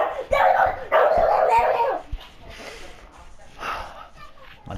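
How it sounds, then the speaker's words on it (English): Dogs bark loudly in a home while someone plays a Rainbow Six Siege match, with two strong bursts early followed by softer, scattered yips and barks under talk. "My dogs are loud."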